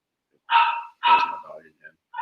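A small mini Aussiedoodle dog barks twice in short, close, fairly loud bursts, followed by a few softer yips and whimpers at the end.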